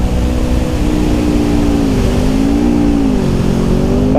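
Car engine on a race track during a track day, heard loud and close as it revs and accelerates, pitch rising and shifting through a gear change with steady road and wind roar.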